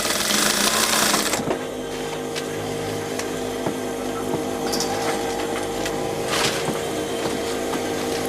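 A sewing machine stitches red thread along the neckline of a refashioned jumper dress, running in a steady, close mechanical whir with a brief pause near the start and faint clicks throughout, with no talking.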